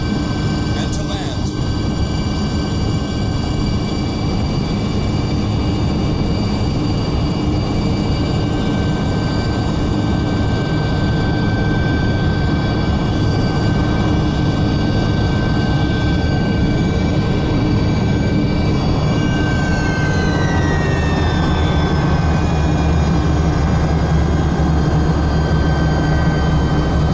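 Soviet Yakovlev Yak-40 jet airliner landing, heard from inside the cabin as a loud, constant engine roar with high whining tones that bend downward about three quarters of the way through.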